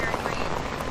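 Heavy rain in Mooresville, North Carolina near Lake Norman, a steady, loud, close hiss of drops with no breaks through the whole short moment.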